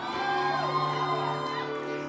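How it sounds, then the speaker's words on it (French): A church congregation lets out a joyful whoop and cheer together, a loud, sustained crowd shout that swells and tails off across the whole moment. "Est-ce qu'on peut pousser des cris de joie?"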